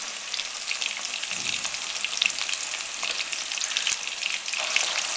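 Crispy fried chicken frying in oil over a low flame, a dense, even crackling sizzle that holds steady throughout at close range.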